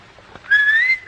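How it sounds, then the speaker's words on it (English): A person whistles a clear rising tone that holds for about half a second, following a faint breathy start, close and alone with no talk over it. "Whistle if you want."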